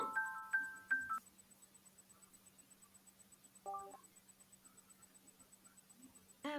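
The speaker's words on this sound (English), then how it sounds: "Misha, pick up the phone." A phone ringing in a dating game: a few bright electronic ring tones repeat at the start, followed by a short chiming burst midway and another tone at the end over a faint, quiet background hum.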